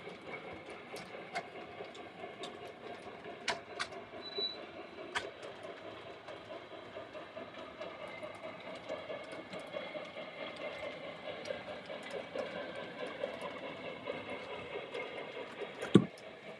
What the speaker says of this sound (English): Just slowed my train down.